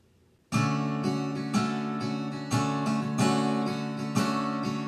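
Acoustic guitar strummed in steady downstrokes after a moment of quiet, playing a song, chords ringing bright and close with a relaxed rhythm.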